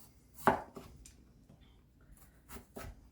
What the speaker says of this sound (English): I have some red potatoes here, and I'm just going to cut them up